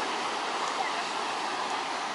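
Steady broadband wash of surf, a continuous rushing roar without distinct breaks, moderately loud and even throughout.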